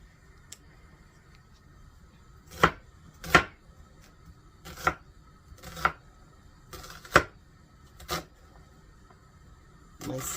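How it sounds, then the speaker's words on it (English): A knife chops onions on a board in about eight separate sharp cuts, spaced irregularly with quiet pauses between, close and clear over faint background noise. "So I'm going to get these onions chopped up."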